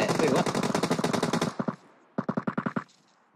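Rapid automatic gunfire from PUBG Mobile, a long loud burst of bursting shots followed by a short gap and a second shorter volley, crisp and close with no talk over it.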